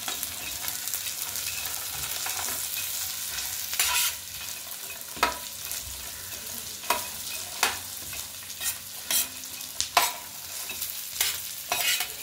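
Peanuts sautéed in a kadhai for poha, a continuous oily sizzle broken by sharp, irregular scraping and clattering stirs against the pan that grow more frequent toward the end, with no voices.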